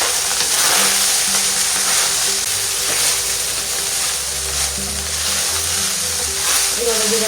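Cooked rice goes into a hot pan and is stir-fried for fried rice, making a loud continuous sizzle with intermittent spoon scrapes, while a voice talks over it.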